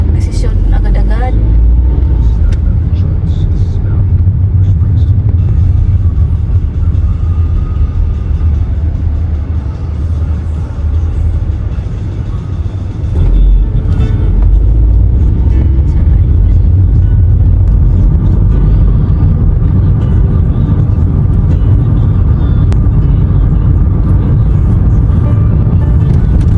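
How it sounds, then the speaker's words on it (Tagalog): Road traffic passes by in a loud, steady rumble of engines and tyres. Heavy low-end noise fills the whole stretch, with a brief dip midway before vehicles keep streaming on without a break. "Traffic on the other side."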